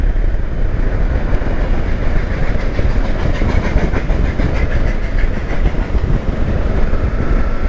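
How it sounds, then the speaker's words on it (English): A Puffing Billy train rumbles past nearby on its railway line, its wheels clacking steadily on the rails under a loud, continuous roar. "Here comes the train again."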